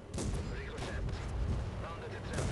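Tank cannon fire from the World of Tanks video game, featuring Swedish tier 3 tanks, sounds as dense, booming battle noise with overlapping blasts throughout, loud and continuous.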